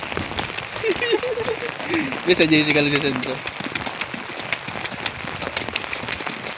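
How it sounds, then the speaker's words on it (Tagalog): Rain falls during a typhoon with monsoon winds in the Philippines, a steady hiss of drops on surfaces under people talking nearby, with a brief tonal sound partway through. "Umuulan na"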